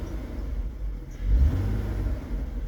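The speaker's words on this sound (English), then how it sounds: "now I just start the car and it's running perfectly" A 2006 Ford Taurus engine idles close by after a misfire repair, a smooth low rumble that swells briefly as it revs around the middle, then settles back to a steady run.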